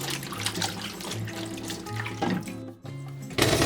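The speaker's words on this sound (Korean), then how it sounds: "꼭지를 따고 깨끗이 씻어서" Spicy green chili peppers being washed under a running kitchen sink tap, steady splashing water with a low hum, brief interruptions and shifts as the peppers are handled, no talk.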